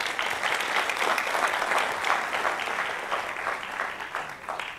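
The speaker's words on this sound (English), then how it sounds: "So let's give the speakers a big round of applause." Audience at an education event giving panel speakers a big round of applause: dense, sustained clapping from a full room, fairly loud and even throughout, fading slightly at the end.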